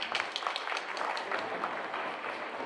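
A hall full of delegates at a bank employees' women's convention breaks into applause, a dense, even crackle of many hands clapping continuously at moderate distance.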